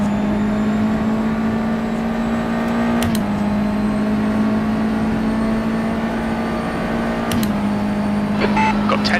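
Steady engine drone with a constant low hum and faint rhythmic vibration from a flat-spotted tyre running throughout, with a couple of brief clicks, from a USF2000 car at Suzuka West in rFactor 2.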